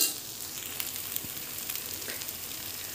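A homemade evening snack sizzles softly on a pan over a low flame, a steady faint crackle with occasional small pops, heard alone and close.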